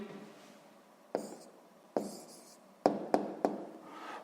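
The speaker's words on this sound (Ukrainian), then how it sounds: "Записуємо відповідь." Pen writing an answer by hand on paper, a few short scratchy strokes separated by pauses and sharp taps as the pen touches down, close and clear with no talk.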